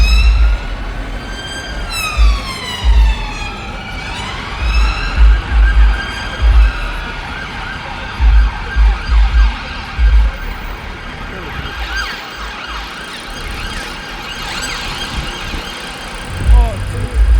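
An emergency siren wails on Avenue Louise, sweeping up and down in pitch as it passes, over traffic rumble with people talking nearby.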